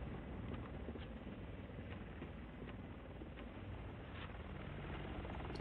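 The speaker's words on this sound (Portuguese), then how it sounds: "o helicóptero passa por baixo." A helicopter's steady rotor drone in the video game Resident Evil 6 fills the whole stretch, loud and continuous, with faint rhythmic thumping and no talking.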